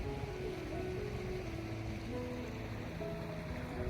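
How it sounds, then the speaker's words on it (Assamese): The strong current of the Brahmaputra river rushes past in a continuous, even roar of flowing water, steady and mid-distance, with a faint low hum running beneath it. "ইয়াত কিমান ডাঙৰ সোঁত গৈ আছে আপোনালোকে আৱাজটো শুনি নিশ্চয় বুজি পাইছে"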